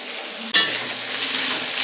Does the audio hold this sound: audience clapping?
no